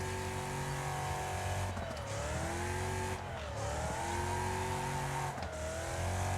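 Race car engine in a video game, its strained gearbox droning in steady harmonic tones that dip and recover with each shift, sustained and fairly loud with light tire noise.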